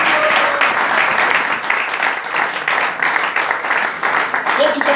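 A church congregation breaks into sustained applause, a dense, steady wash of clapping filling the room from start to finish.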